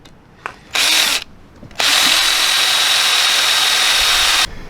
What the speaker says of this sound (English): you'll find it easier if you just drill a pilot hole first before you drill the 5/16